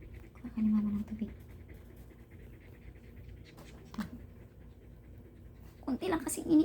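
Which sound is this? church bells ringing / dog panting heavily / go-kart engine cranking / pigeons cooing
dog panting heavily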